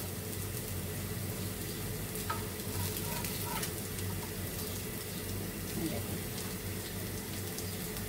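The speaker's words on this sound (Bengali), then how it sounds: "হালকা জিলে ভেজে নিচ্ছি" Fish cutlets fry lightly in a pan with a steady, faint sizzle that holds evenly throughout, plus a few soft clinks.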